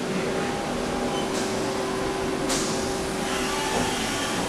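A 5-axis CNC milling machine runs in a motorcycle suspension manufacturing workshop, giving a steady, dense mechanical hum and whine with faint tonal lines and occasional brief hissing swells, constant and unbroken throughout.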